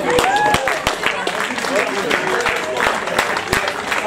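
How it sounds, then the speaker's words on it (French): Audience applause for a runner on the race podium at a 10 km road race in Echirolles, steady clapping from a crowd with a voice talking over it. "Allez, vos applaudissements."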